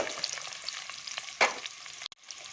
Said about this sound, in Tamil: எண்ணெய் காஞ்ச உடனே நம்ம இதில் வெங்காயத்தை சேர்த்துக்கலாம்.